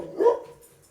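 A single short dog bark or yelp, close and fairly loud, fading quickly into quiet.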